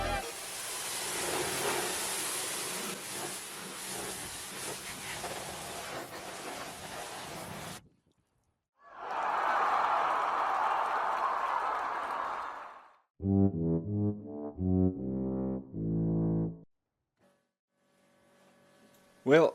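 A car is rinsed with a water spray after a citrus pre-wash, making a steady loud hiss that stops abruptly. A second shorter burst of spray follows, then a few loud tonal sounds.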